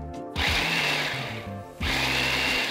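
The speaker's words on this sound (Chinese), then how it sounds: "现在呢，我们就可以将它转移至我们的搅拌机里面，将它打成沙粒状的这样子的一个状态。" A blender grinds golden roasted peanuts to a sandy texture for satay sauce. The motor whirs loudly and rattles close by, cuts out briefly, then starts again, and no one talks.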